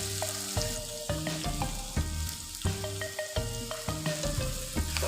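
Drumsticks, onion and tomato sizzle steadily in a frying pan for an egg curry, a close, continuous crackle broken by a few clicks and stirring bumps, with no voices.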